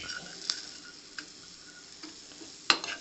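Green chilies fry in a pan for a mint pulao, a soft, steady sizzle with a few sharp clicks and taps of a utensil, close but fairly quiet.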